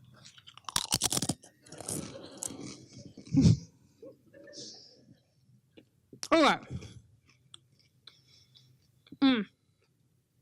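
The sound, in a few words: chewing a Dorito chip into the microphone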